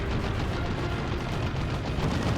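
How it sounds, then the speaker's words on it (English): Booming artillery fire from the real-time strategy game Warhammer 40,000: Dawn of War 2 in a Space Marines versus Orks match, a dense, continuous low rumble of blasts filling the whole moment with no talk over it. "Big boom gunshot."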